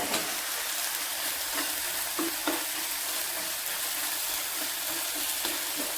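Mustard and poppy seed paste with green chilli, chilli powder and turmeric fries in a pan for a mustard fish curry, a steady close sizzle with scraping stirs throughout and no talking.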